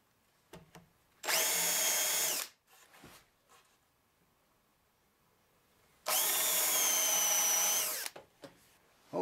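Power drill making small divots for screws in a sliding glass door while building a dog door: two separate steady whirring bursts of about a second each, close and clear, with quiet pauses between them.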